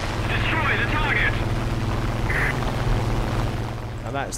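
A Spitfire's powerful aircraft engine in a flight combat video game drones loud and steady throughout, while a voice talks over it.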